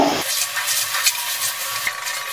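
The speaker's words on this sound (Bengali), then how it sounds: "ভাজা আলুগুলো দিয়ে সব কিছু একসাথে আরেকটু কষিয়ে নেব।" Chicken pieces and fried potatoes are stirred in a hot pan with oil, a steady bright sizzle and scraping hiss, with a couple of soft knocks from the spoon, close by.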